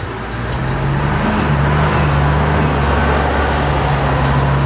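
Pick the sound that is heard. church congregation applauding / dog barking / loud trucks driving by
loud trucks driving by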